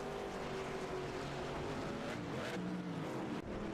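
Late model race cars at South Boston Speedway, their engines droning loud and steady as the pack circles the track under caution, with no voices.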